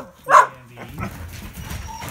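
An Australian Shepherd dog lets out one sharp, loud bark, followed by softer whimpering and whining close by, with people talking quietly at times.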